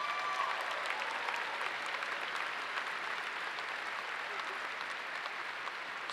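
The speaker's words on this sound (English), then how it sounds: "That's an outstanding achievement that deserves one more round of applause." A large crowd at a college commencement ceremony applauds steadily. The clapping is a distant, even, hissing wash that holds at a constant moderate level from start to end without voices.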